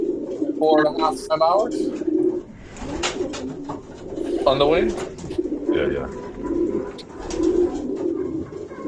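Racing pigeons coo and flutter in a loft on a shipping night before a Saturday race, soft repeated coos mixed with chirps while someone talks over them.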